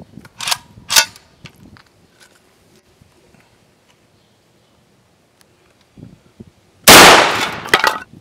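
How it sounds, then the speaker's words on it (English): .223 caliber rifle shot fired into a ballistics gel block outdoors, one sharp, loud blast late in the clip after a few faint clicks and handling noises. "So we're going to go ahead and shoot in this gel block and see what happens here."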